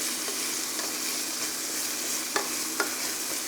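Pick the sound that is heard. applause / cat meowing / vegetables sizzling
vegetables sizzling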